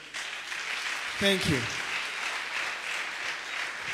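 Audience applause after a speech at a public forum on freedom of expression and assembly, a steady wash of clapping that runs throughout while a voice briefly speaks over it near the start.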